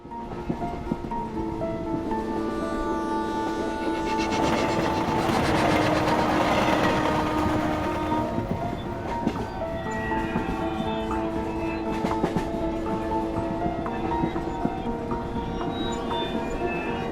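A passenger train out of Howrah station in India runs continuously, a loud, steady rumble and rattle of carriages with tonal wheel and horn-like drones swelling through the middle and holding to the end.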